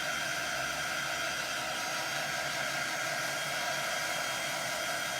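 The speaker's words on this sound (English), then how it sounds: "I'm just gonna dry this with my quick dry tool." A quick dry heat tool blows over craft paint with a steady, loud, unbroken rushing hiss, like a hair dryer, running alone throughout.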